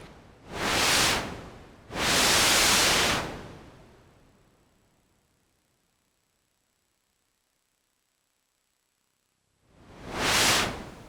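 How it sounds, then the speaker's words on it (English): Pure white noise from a Eurorack synthesizer passes through a vactrol-based low-pass filter in three bursts, the second fading out slowly with a long soft release before silence and a final short swell. "The white noise is pure white noise, but it passes through a vactrol-based low-pass filter."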